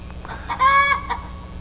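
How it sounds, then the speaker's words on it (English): A chicken clucking and squawking during egg laying, a short run of bright, harmonic calls rising to a louder sustained squawk, then a faint final cluck over a steady low hum. "I'm really wondering if I should stop now until this chicken is done."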